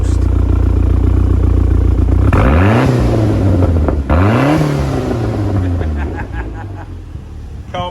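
A Fiesta RS Turbo, an unrestored garage find after 17 years, is heard close at the exhaust. It idles, then snaps into two sharp revs that rise and fall, and settles back to a fading idle.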